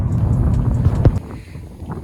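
Loud, buffeting wind rumble blasting a microphone beside a Nissan GT-R, low and continuous with gusty swells and crackles throughout, no voices.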